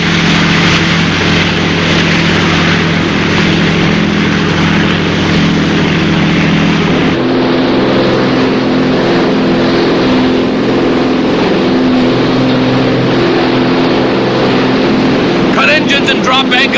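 Boat engines drone loudly and continuously, a dense roar that drops in pitch partway through as if throttled back, then fades toward the end with a brief clatter.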